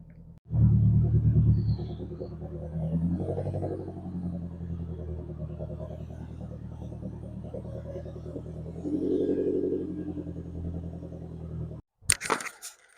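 Vauxhall Corsa B turbo engine running on a driveway just after a service, a steady close idle with a rise in revs midway, then cutting off with a few brief knocks at the end.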